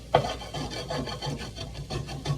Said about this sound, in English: if you see it start burning, you just need to scrape the bottom